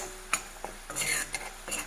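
Chili powder stirred and roasted in a pan for fish pickle, with scraping clinks of a spoon against the metal pan and a soft sizzle in short bursts.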